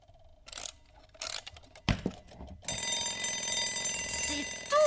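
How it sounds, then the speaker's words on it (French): An alarm clock is checked to see if it works, with a few clicks and knocks before a steady, loud ringing starts and carries on, with no talk over it. "Et le réveil, est-ce qu'il marche?"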